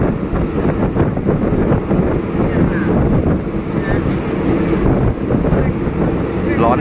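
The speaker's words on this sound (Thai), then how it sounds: "ตอนนี้ขบวนรถก็วิ่งอยู่ช่วงระหว่างสถานีหินลับกับสถานีมวกเหล็กนะครับ" A passenger train runs between Hin Lap and Muak Lek stations in Thailand, heard from a carriage window as a loud, continuous rumble mixed with heavy buffeting wind noise throughout.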